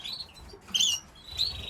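A pet bird in an aviary flight gives a few short, high chirps and a small warble, faint and sparse against quiet background rustle.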